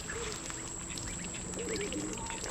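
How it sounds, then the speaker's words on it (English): Small, high quacks and peeps scattered over a steady background hum, fairly close. "So there's all the baby ducks."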